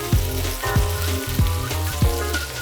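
Food browning lightly in a hot frying pan gives a loud, close, continuous sizzle, broken by a few soft low thumps at regular intervals.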